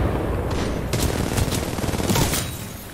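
Sustained R-97 submachine gun fire in the Titanfall 2 video game, loud and dense rapid bursts that run almost continuously and tail off near the end.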